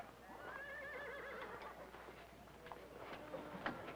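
A horse neighs in a long, wavering whinny near the start, and faint hoof clops and shuffles follow. The whole scene is quiet and somewhat distant, like an old film soundtrack.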